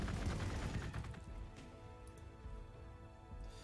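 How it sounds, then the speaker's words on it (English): Bolter gunfire from the video game Warhammer 40k: Gladius, with dense rapid bursts of shots that are loud at first and then thin into scattered, rattling reports. "Enjoy bolter rounds to the face."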